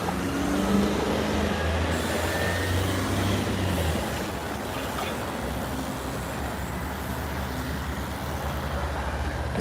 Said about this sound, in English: Here's the bus.